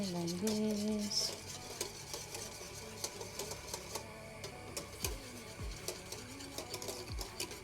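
Cornmeal being stirred into boiling salted water for polenta, with a steady run of soft scraping and ticking strokes at close range and no talking.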